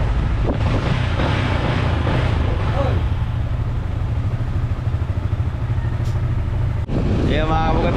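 Strong, steady wind roars and buffets the microphone throughout, with a low rumbling drone underneath and a brief pause near the end.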